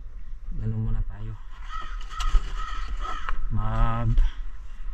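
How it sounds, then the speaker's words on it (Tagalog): A crow caws from a rooftop in a few loud, harsh bursts, with a person talking nearby in between. "Sumisigaw yung uwak."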